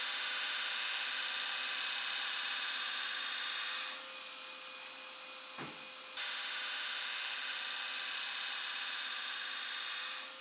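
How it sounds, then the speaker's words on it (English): A belt grinder grinds a Santoku chef's knife blank with a steady, loud, high-pitched whine. The tone shifts midway as the blade presses against the belt. "Then it's over to the grinder."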